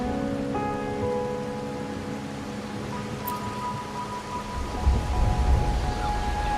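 Rain falls in Raguna in the video game Wuthering Waves, a steady hiss under soft tonal hum, with a low rumble swelling toward the end and no voices.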